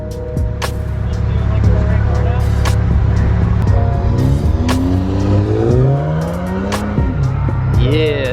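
A loud, close engine roars and revs as an all-wheel-drive Audi tries a burnout on wet pavement, with sustained tire squeal and sweeping pitch changes throughout and people talking nearby.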